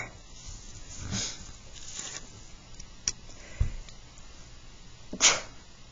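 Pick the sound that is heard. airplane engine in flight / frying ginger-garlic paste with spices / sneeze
sneeze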